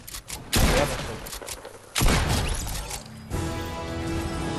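Grenade blasts in the video game Fortnite, three loud broadband bursts in quick succession with crackling debris and rumble trailing each one, then a steady mechanical hum.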